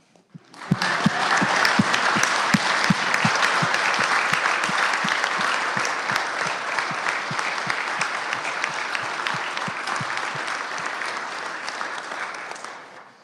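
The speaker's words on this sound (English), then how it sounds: "let's just give them a round of applause" A Senate chamber audience gives a sustained round of applause lasting over ten seconds, many hands clapping densely and evenly before it fades out, with no talking.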